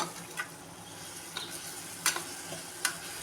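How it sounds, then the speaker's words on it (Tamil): Brinjal and other ingredients frying in a pan for Chettinad-style brinjal peanut kuzhambu, a low, steady sizzle broken by several sharp clicks of a stirring utensil. "இப்போ நம்ம கத்திரிக்காயோட சேர்த்து எல்லாமே நல்லா பரட்டி விட வேண்டியதுதான்"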